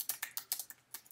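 Quick, light keystrokes clatter on a computer keyboard, six or seven crisp clicks in an uneven rhythm, close and quiet with no talking.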